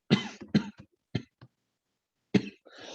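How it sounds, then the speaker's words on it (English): A few sharp coughs close by, three quick bursts then a pause and another cough, with a short throat sound trailing at the end. "Stupid coughing."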